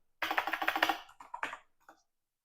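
Fast bursts of computer keyboard typing while Python code is entered, a quick run of clustered keystrokes followed by a few slower, separate taps, close and clear with no talking.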